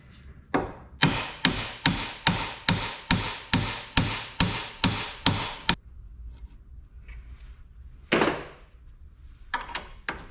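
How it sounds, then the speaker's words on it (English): A dozen sharp, ringing hammer strikes on metal during a Kia Rio front wheel bearing replacement land at a steady rhythm, then stop; a few scattered clanks and taps follow after a pause. "Bigger hammer."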